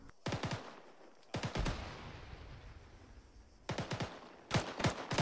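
Automatic weapon fire in the military shooter ArmA 3, several sharp bursts of rapid shots separated by brief pauses, loud and close with a lingering echo tail.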